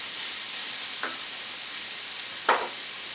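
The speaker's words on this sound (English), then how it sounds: "you just let that saute for probably about 5 to 7 minutes" Mushrooms and onions sauté in a pan for a creamy chicken dish with bacon as a soft, even sizzling hiss, with two brief scraping stirs, the second louder. No voices are heard.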